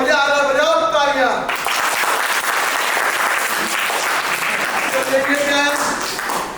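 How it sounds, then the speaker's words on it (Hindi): Audience clapping at a yoga and culture camp session, a broad sustained wash of applause from many hands after a prompt, with a voice speaking over the start and end. "बजाओ तालियां"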